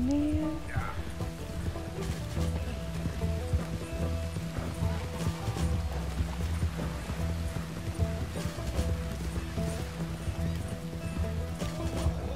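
Horse hooves in Red Dead Redemption thud in a steady galloping rhythm, mixed with game music and other in-game sounds at a fairly even loudness.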